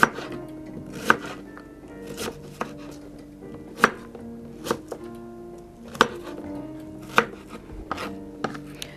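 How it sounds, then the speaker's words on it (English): A knife chops onions on a board in slow, evenly spaced sharp knocks, about one per second, close and clear with no talking. "I'm going to chop some onions into that."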